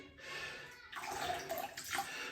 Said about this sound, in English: Just dip it in the water, it's a synthetic,